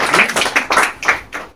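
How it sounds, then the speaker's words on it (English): Brief applause from a small audience at a black metal opera talk, greeting the drummer of Svartediket as he comes up; several short bursts of clapping rise and fade in quick succession, fairly close and with no talk over them. "Give a round of applause for Arne, the drummer of Svartediket."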